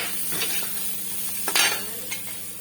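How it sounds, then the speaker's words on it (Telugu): Peanuts fry in a pan over a low flame with a steady soft sizzle, a stirring scrape and a brief clatter from the utensil midway. "పల్లీలను అయితే ఫస్ట్ ఇలా సిమ్లో బాగా ఫ్రై చేసుకోవాలండి"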